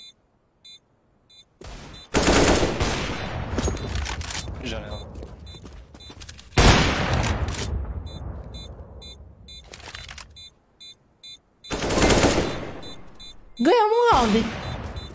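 Gunfire in an online shooter match comes in loud bursts of shots that ring out and decay, separated by quieter stretches, with a voice heard briefly near the end.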